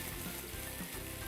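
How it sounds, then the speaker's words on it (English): Steady, soft sizzling as low fat milk goes into cauliflower already frying in a pan, a continuous hiss with no talking. "Now we will add low fat milk"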